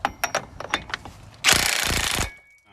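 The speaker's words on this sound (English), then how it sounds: "Remove your axle nut, which is a 36 millimeter." Ratcheting and mechanical clatter while a 36 mm axle nut is removed from the wheel hub of a 2005 Chevy Tahoe: a few quick clicks first, then a loud sustained rattling burst like an impact tool, close up with no talk.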